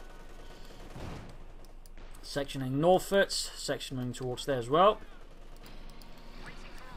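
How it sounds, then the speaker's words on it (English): MG-34 machine gun fire in the World War II strategy game Company of Heroes 2 rattles as faint rapid bursts beneath a commentator's steady narration, which dominates throughout. "Troops suppressed in the centre here by the MG-34."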